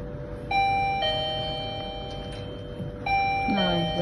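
Electronic ding-dong doorbell chime from the Usmart Go app linked to a finger-vein smart door lock, sounding twice with clear sustained tones over faint background noise, the second followed by a brief rising tone.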